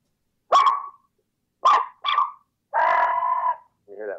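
Turkey reed call, its reed not fully separated, blown in a few short raspy yelps followed by a longer drawn-out note and a brief trailing sound, close and fairly loud with nothing else behind it.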